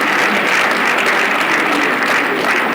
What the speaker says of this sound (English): Please, another round of applause for General Dr.